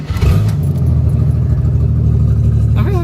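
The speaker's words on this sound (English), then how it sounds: "What do you think an inline 6 with no pipe on it sounds like?" An inline six engine with no exhaust pipe runs loud and raw, a steady low throbbing rumble with clattering overtones, heard up close throughout, with a voice starting at the very end.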